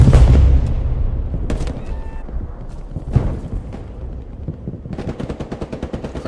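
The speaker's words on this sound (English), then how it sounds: "Let those bullets fly." Loud WWII game gunfire, a heavy opening blast followed by scattered shots and a rapid rhythmic machine-gun burst at the end, close and dominant.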